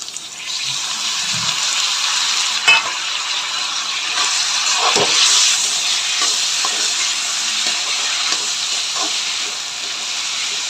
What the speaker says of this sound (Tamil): வெங்காயம் நல்லா வதங்கிருச்சு இப்போ வந்துட்டு தக்காளி சேர்த்துக்கலாம்